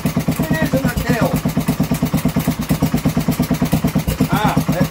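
A Kohler K series single-cylinder engine, recovered after years in a hedge, runs steadily after a restart, its rapid even thumping idle close and loud throughout, with a few faint squeaks over it.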